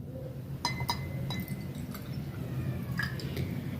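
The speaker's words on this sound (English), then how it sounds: "So I will first pour the water into a beaker." Water poured from a measuring cylinder into a glass beaker, a low steady splash and gurgle with several sharp glassy clinks scattered through, close and fairly loud, no talking.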